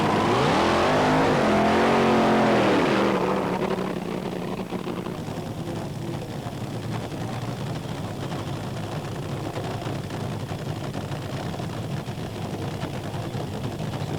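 Nitro drag racing cars launching at Hockenheim, 1992: a loud, rising engine roar that swells for about three seconds, then falls away into a distant, noisy rumble.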